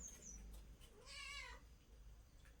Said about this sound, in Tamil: ஏய் பூனை உனக்கு இப்போ சோறு கேக்குதா